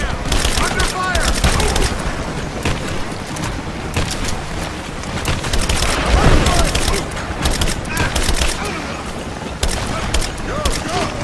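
Chaotic gunfire crackles through a Lara Croft Tomb Raider cutscene, with repeated sharp shots and bursts layered under shouted voices and heavy action noise throughout.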